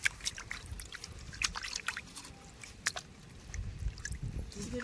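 Water sloshes and trickles in short splashy bursts as dried fish is rubbed and rinsed by hand, close and fairly quiet.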